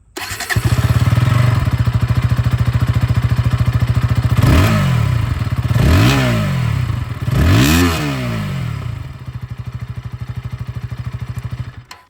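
A 2026 KTM Duke 160 motorcycle idles with a steady, loud exhaust note, then three sharp throttle blips rise and fall before it settles back to a continuous idle.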